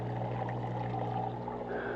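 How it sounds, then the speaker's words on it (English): Water from a bait tank filter pours into a filter sock on a boat used for catching mullet: a continuous close gurgling splash over a steady low pump hum, with no talking. "I got that filter comes up here, comes through here, goes over here and dumps in this little filter sock right here."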